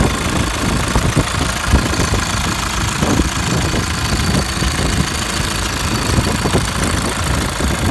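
A 2015 Nissan Navara D23 engine idles steadily, a close, even mechanical rumble with a faint ticking texture and no speech.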